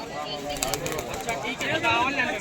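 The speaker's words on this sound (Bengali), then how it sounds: "ছটপট ছটপট করছে পায়রা দেখুন" Pigeons flap and flutter in a seller's stall at the crowded Galiff Street pigeon market in Kolkata. Short bursts of wing beats stand out over a background of talking voices and market bustle.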